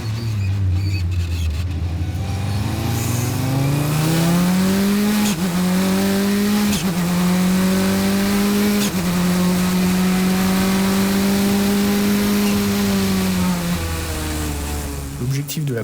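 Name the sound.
race car engine at full throttle at race start, Magny-Cours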